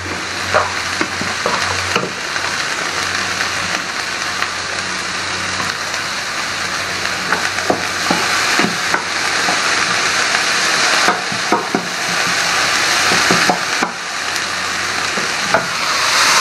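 Sliced bell pepper fries gently in a pan over lowered heat for ratatouille, giving a steady, close sizzle with soft crackles and occasional stirring scrapes throughout.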